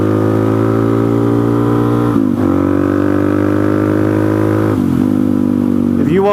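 A supermoto motorcycle with a stroker big-bore build revs hard while riding, a loud buzzing engine note climbing steadily, with quick drops at each gear shift.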